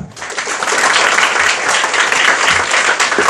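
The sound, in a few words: audience clapping for a student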